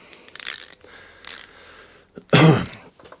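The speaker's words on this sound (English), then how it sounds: "I'm going to remove the bowl nut off of this carburetor underneath here" Socket ratchet working the carburetor bowl nut loose underneath a Toro lawnmower with a Briggs and Stratton engine, giving a few short close clicking bursts followed by a louder scraping clatter near the end.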